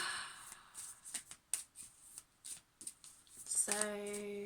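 Tarot cards shuffled by hand give soft, quiet riffling flicks and taps in an irregular rhythm, ending with a sustained bell-like tone.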